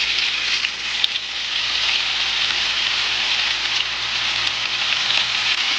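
Strips of seasoned sirloin steak fry in oil in a large skillet or wok over medium-high heat, giving a steady, even, loud sizzle with faint crackles and no voices.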